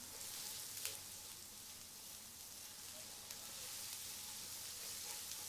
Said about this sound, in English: So this is frying up.